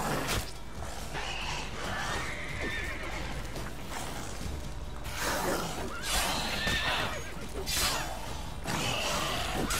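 A horse in the video game The Witcher 3 neighs and whinnies repeatedly in loud bursts over game noise and hoof clatter, with someone speaking French at points.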